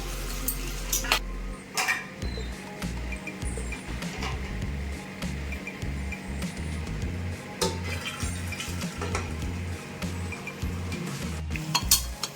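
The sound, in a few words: crab being stirred and sautéed in a pan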